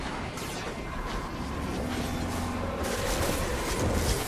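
Rapid gunfire in a Destiny 2 Prestige raid lair boss fight, weapons shooting at a solar target amid a dense, continuous wash of game combat noise and booms.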